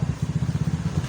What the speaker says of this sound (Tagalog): And my motor is so noisy